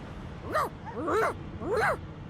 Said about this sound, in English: The dog whines and continues pawing.